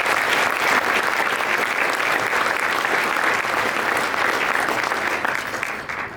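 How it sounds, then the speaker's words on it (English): A large audience at a Rotary youth fundraiser night gives a sustained round of applause for event staff, dense and steady throughout before tapering slightly at the end. "Can we please give the staff at Rhythm City a big round of applause?"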